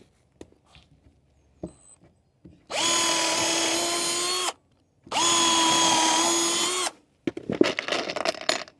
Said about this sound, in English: Can't see where I've drilled the hole.